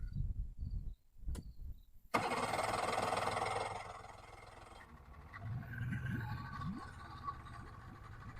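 A boat engine cranks briefly, then catches at about two seconds and settles into a loud, steady running drone that dips slightly later on.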